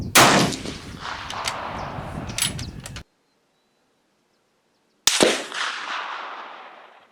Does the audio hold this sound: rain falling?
no